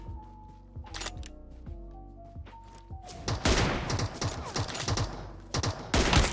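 Rapid bursts of PUBG Mobile gunfire, a quick string of shots followed by louder, denser volleys with brief gaps between them.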